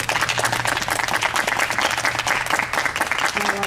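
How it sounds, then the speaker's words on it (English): A church congregation at a Sunday service breaks into steady, sustained applause, a dense even patter of many hands clapping with no voices standing out. "And I believe applause is in order."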